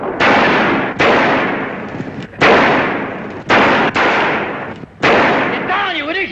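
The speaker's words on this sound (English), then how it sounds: "Sound like shooting?" A series of loud, sharp gunshot bursts rings out in quick succession, each decaying with a short echo. A voice briefly overlaps near the end.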